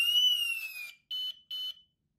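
A Homematic IP alarm siren sounds with a piercing high electronic tone: one longer wailing sweep followed by two short, evenly spaced beeps, then silence.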